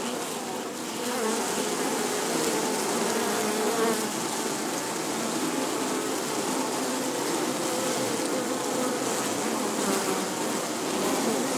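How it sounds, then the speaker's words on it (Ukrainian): A dense, steady hum of many honeybees buzzing together in a log hive, close and continuous with no talking. "Чуєте, як зраділа бджола?"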